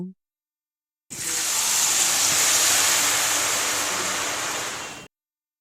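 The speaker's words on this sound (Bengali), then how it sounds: "এখন আলুর জন্য কিন্তু তেল একদম পারফেক্ট গরম তাই অ্যাড করে দেব আলুগুলো" Shredded potatoes dropped into hot mustard oil for crispy jhuri aloo bhaja, a loud steady hiss of frying that starts abruptly and holds at even strength for about four seconds before stopping, close and alone with no talk.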